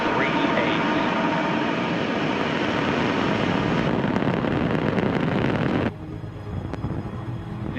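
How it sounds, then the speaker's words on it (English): A SpaceX Falcon 9 rocket carrying Starlink satellites lifts off with a loud, sustained broadband roar that holds steady, then drops suddenly in level, leaving a fainter rumble with wind noise. "ignition, and liftoff. Go Falcon,"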